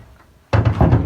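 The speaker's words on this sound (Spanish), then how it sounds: "Abre la puerta." A door is pushed open at a home construction site, a sudden thudding knock followed by a few rattling bumps as it swings, loud and close after a brief quiet.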